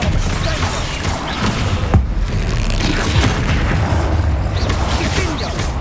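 An Expelliarmus spell in Hogwarts Legacy, heavy booming impacts and crashing bursts over a dense rumbling game mix, with a sharp hit near the two-second mark.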